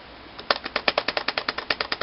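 Game controls for Street Fighter 4 are mashed rapidly, making a quick run of about sixteen sharp, evenly spaced clicks close up, with no voices.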